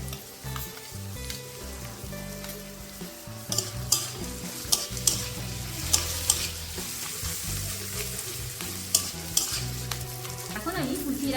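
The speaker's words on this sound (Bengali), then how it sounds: "এখন আমি কুচিয়ে রাখা কাঁচা লঙ্কাগুলোকেও দিয়ে দেব।" Chopped green chillies hit hot oil for dal tadka, giving a steady dense sizzle, with a spoon stirring and scraping the pan in scattered sharp clicks throughout.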